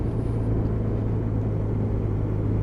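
A Yamaha Fazer 800cc motorcycle out on a ride gives a steady, close engine drone with deep low hum and rumble, unbroken and even throughout.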